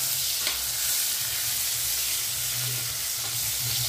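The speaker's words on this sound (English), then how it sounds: "onions, and my garlic all together to braise the herbs" Cane herbs braise in a pan with dried chilies, onions, garlic and salt, giving a steady close sizzle and hiss, with faint stirring scrapes and no talking.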